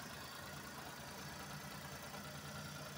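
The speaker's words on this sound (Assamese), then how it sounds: "ইঞ্জিনৰ চাউণ্ডটো ধুনীয়া স্মুথ হৈ আছে" A 2012 Hyundai Eon car engine idles with a faint, steady, smooth hum that stays even throughout, with no revving and no voices.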